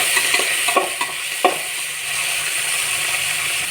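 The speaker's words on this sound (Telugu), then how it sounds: "బాగా ఈ టమాటా మిశ్రమము ఫ్రై అయ్యేంత వరకు బాగా వేయించుకోవాలండి." Chopped tomato frying in a pan with black pepper and chillies for pepper rasam, a loud continuous sizzle with a few sharp stirring scrapes and clicks early on.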